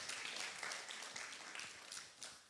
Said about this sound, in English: So another round of applause for our Group 3 children,